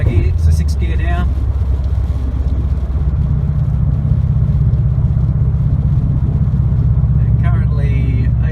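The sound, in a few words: 2017 Subaru WRX STI with Invidia R400 cat-back exhaust, driving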